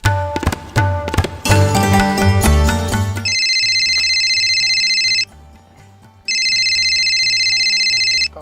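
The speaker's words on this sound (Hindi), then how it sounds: "हमारे तो बुढ़िया फोन आ गो।" A telephone ringtone sounds in two sustained electronic bursts with a short pause between, following a few seconds of background music with no talking.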